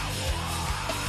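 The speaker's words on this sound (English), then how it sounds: "This is hardcore heavy metal screaming." Hardcore heavy metal screaming: a raw, intense yelled vocal that holds at a steady roar for a short moment, loud and close, with no other sound.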